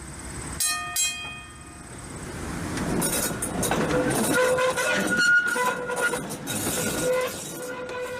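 A T1 steam locomotive train races along a main line at high speed, with rumbling wheels, rhythmic clatter and horn-like tones rising and swelling as it passes nearby.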